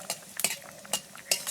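Nigella seeds and dried chillies dropped into hot mustard oil for tempering potatoes with poppy seed paste, giving a few short crackling pops and metal spoon clinks against the pan, close and fairly quiet.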